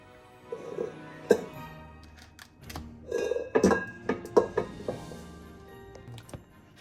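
Dinner roll dough lifted out of a mixer and set into another bowl, with scattered clinks and knocks of dishes and utensils, soft thuds and brief rustles at close range.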